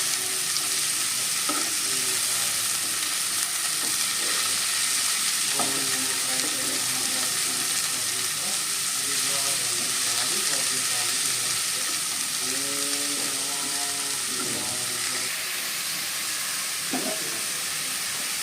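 Ash gourd stirred in a frying pan, with a steady sizzle and hiss throughout, broken by repeated scraping strokes of the spoon against the pan, close and fairly loud.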